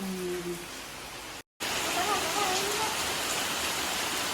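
Heavy rain pours down steadily as a dense, continuous hiss, interrupted only by a brief moment of silence partway through, with no voices over it.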